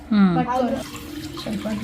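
Water poured into a vessel while making panakam for Sri Rama Navami, a short splashing pour heard close under someone speaking.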